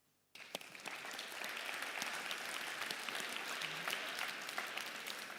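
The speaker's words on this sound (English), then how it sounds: "let's have a big applause for the incredible jury we have tonight with us" An audience claps loudly and steadily for an evening event's jury, a sudden burst that keeps up as dense, sustained applause from a large crowd with no talking over it.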